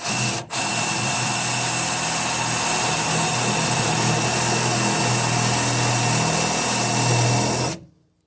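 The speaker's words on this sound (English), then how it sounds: "So I'm just going to drill through this top one here." A power drill whines steadily as it bores into a metal weld, a loud continuous high-pitched grind that cuts off abruptly at the end.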